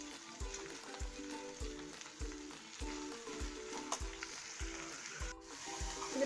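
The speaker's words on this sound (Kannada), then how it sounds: "ಇದನ್ನು ನೀಟಾಗಿ ಫ್ರೈ ಮಾಡಿಕೊಂಡ್ರೆ ಎಣ್ಣೆಲಿ ಈ ಸೊಪ್ಪಿಂದು ಹಸಿ ಸ್ಮೆಲ್ಲೆಲ್ಲ ಹೊಟ್ಟೋಗುತ್ತೆ." Spinach frying in oil in a pan for pulao, a faint steady sizzle broken by a regular rhythm of soft stirring scrapes, with no talk.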